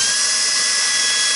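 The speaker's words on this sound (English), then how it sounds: "So you take the drill and kind of move up and down, and it just connects." Power drill cutting a slot during a home build of a Segway-style vehicle, a steady loud high-pitched whine running without a break for the whole short stretch, close to the mic.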